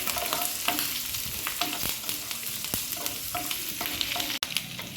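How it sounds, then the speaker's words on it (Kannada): Curry leaves and Byadgi chillies fry in oil with a bright, crackling sizzle, broken by repeated clinks and scrapes of a stirring spoon, and one sharp knock near the end, no voices. "ಚೂರು ಫ್ರೈ ಆದಮೇಲೆ ಕರಿಬೇವಿನ ಸೊಪ್ಪು ಮತ್ತು ಬ್ಯಾಡಗೆ ಮೆಣಸಿನ್ಕಾಯಿ ಹಾಕ್ಕೊಳ್ಳೋಣ."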